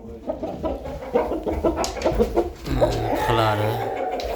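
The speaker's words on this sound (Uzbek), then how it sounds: "Bu ham zo'r xo'roz, bu ham qilari yo'q." Black-feathered rooster kept in a coop clucks repeatedly up close, with a short rising crow-like call near the end, loud and busy with overlapping bird noises.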